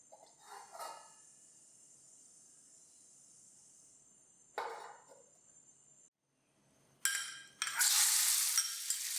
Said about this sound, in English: Fry the pork belly till it becomes white.